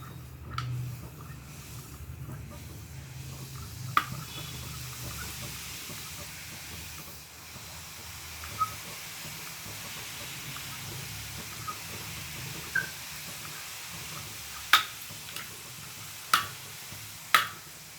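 Omapodi dough pressed into hot oil for a homemade mixture snack sizzles in a faint, steady hiss, with a few sharp crackles and pops late on.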